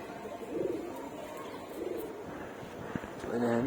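Pigeons coo in a loft in low, rounded bursts, three separate phrases spaced a second or so apart, against a steady murmur of background noise.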